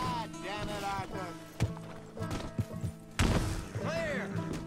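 Horse hooves clip-clop in Red Dead Redemption 2 in an irregular rhythm of thuds, with a voice talking over them and some game background sounds.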